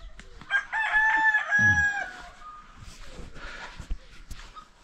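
A rooster crows once nearby, followed by softer clucking and faint farmyard noise from a hill village with ducks, goats, chickens and pigs.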